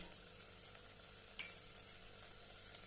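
Sprouted moth bean pulao with garam masala being sautéed in a pan: a faint, steady sizzle with soft stirring scrapes and one brief utensil clink partway through.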